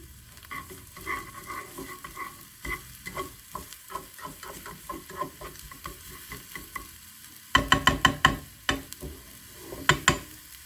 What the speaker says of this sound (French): On les fait revenir un tout petit peu. J'adore ce bruit, écoutez.